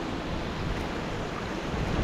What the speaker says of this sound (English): Got a beautiful sprinkling waterfall on one side,